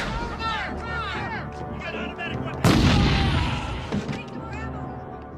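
A single loud, booming shotgun blast rings out mid-clip in Modern Combat 5, its echo decaying, while a voice talks and chirpy game sounds play before it.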